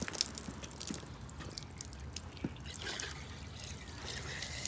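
Blue dye poured straight into a sprayer tank, a steady liquid trickle and splash running throughout at moderate level, with faint outdoor background.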